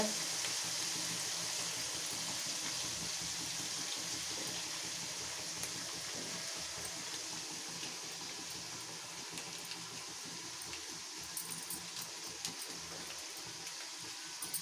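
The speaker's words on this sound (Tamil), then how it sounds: "இஞ்சி பூண்டு பேஸ்ட்டு போட்டு நல்லா வதக்கணும்." Ginger garlic paste sautés in a pan for a mutton botti curry, giving a continuous soft sizzle and hiss that slowly fades over about fifteen seconds, with occasional light scrapes.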